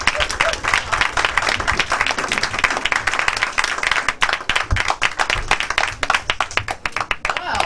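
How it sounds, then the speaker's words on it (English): A stand-up comedy audience applauds and cheers for a comedian, with dense, loud clapping from a crowd filling the whole stretch and voices mixed in. "Let's give a rousing cheer"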